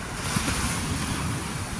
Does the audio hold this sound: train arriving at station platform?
no